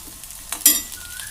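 Ingredients for ridge gourd chutney fry and get stirred in a pan, giving a soft steady sizzle that jumps into a brief louder hiss and scrape partway through, then settles back. No one speaks.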